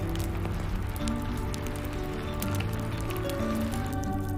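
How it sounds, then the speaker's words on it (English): Rain patters steadily against a window, a dense even spatter of droplets close by with a low continuous hum underneath, soft and unbroken throughout. "The rhythm of the rain picks up slightly, the droplets hitting the window more frequently, the wind howling outside."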